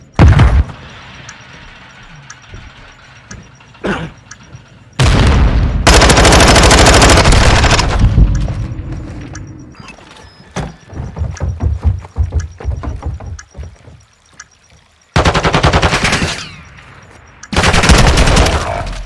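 Gunfire in the video game Modern Warfare 2 during a ranked bomb match, with loud sustained automatic bursts and scattered single shots broken by short pauses.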